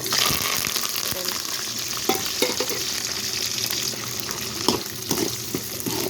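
Seasonings spluttering in not-yet-hot oil before garlic, onion, green chilies and curry leaves go in, a loud continuous sizzle and crackle with occasional sharper pops and stirring clatter.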